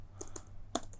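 A few quick, close keystrokes as code is typed on a computer keyboard, clicks scattered across about a second over a faint hum, with no one speaking.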